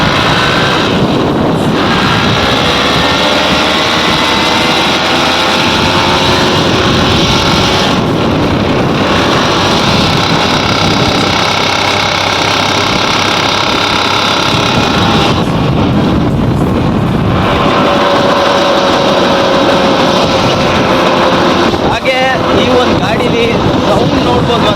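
A TVS XL Super 100 moped runs on the move, a loud continuous engine drone heavily buffeted by wind noise throughout.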